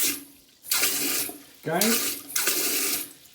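A handheld bidet sprayer, the Thai bum gun, spraying water in three strong bursts of hissing, splashing spray into a toilet bowl, close and loud, with someone speaking briefly between bursts.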